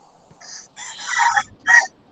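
Rooster crowing nearby at midday, a single clear cock-a-doodle-doo broken into three bursts, loud and alone with no talk.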